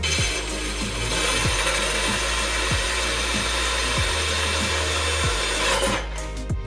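Arrowhead drill bit boring into ceramic tile under a steady loud power-drill whine, with repeated rhythmic scraping pulses as the bit cuts, then tapering off near the end.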